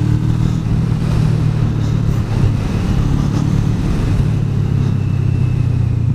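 A small motorcycle rides the roads near Deals Gap, its engine a loud, close, continuous rumbling drone with steady road and wind noise and no talking.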